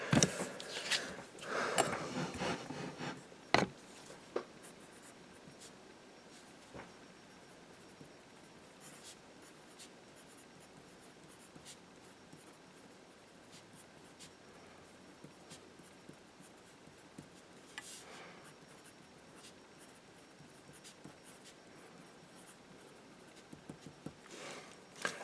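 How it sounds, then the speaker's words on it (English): Pen writing a sentence out by hand, a soft scratchy scribbling that runs through most of the span, close and quiet, with a few louder taps and strokes at the start and end and no talk. "So let's write this out for a moment."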